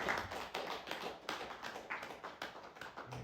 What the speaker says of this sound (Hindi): एक बार ताली हो जाए जोरदार।